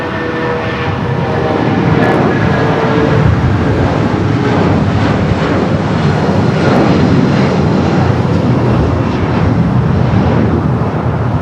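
A Boeing 777-200 in Star Alliance livery takes off from runway 25 right at LAX, its jet engines producing a loud, steady broadband roar that holds for the whole stretch with no one talking.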